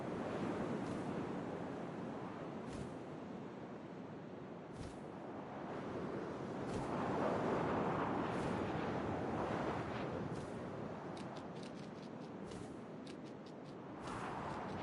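Steady wind blowing in the video game What Remains of Edith Finch, a continuous rushing roar that swells and eases over the whole stretch, with faint ticks and no voices.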